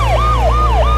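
A police siren wails, sweeping up and down in quick repeating cycles, loud and close, over a low steady engine hum.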